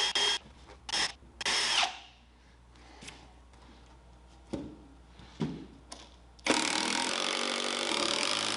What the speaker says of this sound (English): Get some holes drilled, some screws set